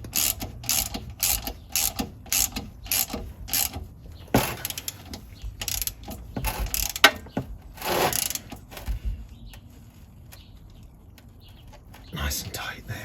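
A ratchet clicks in quick, close bursts as it tightens a plug on a classic Fiat 500 transmission, with pauses between runs and someone speaking softly between them.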